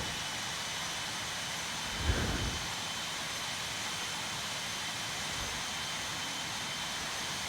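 An airplane takes off in the RFS flight simulator video game, heard as a steady, fairly quiet broadband jet engine roar that holds constant throughout, with a brief swell near the start.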